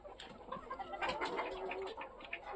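Chickens clucking and cooing close by, a busy overlapping flock with continuous soft calls.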